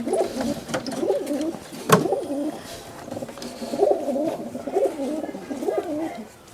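Giribaz pigeons coo in a steady, rolling murmur, with several birds overlapping nearby, a sharp click partway through and faint voices underneath.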